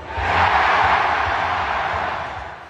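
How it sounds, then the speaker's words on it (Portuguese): Detroit Red Wings hockey fans in an arena, a roaring crowd cheering and screaming that swells quickly, holds steady, then slowly fades. "os fãs do Detroit Red vibraram aos gritos"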